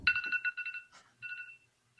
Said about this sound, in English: Okay, clock's ringing.